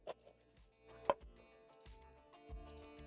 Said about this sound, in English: Then I'm going to roughly chop up my lettuce and transfer to a bowl.